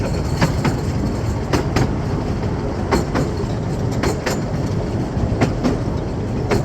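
Miniature railway train ride at a zoo in Blackpool: a continuous rolling rumble of small wheels on track with repeated clicking rail joints and occasional sharp metallic ticks, heard up close throughout.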